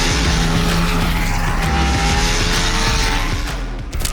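A 2023 Ducati Panigale V4S screams around the Buddh International Circuit, its loud, continuous high-revving engine note sustained and close, fading slightly at the end.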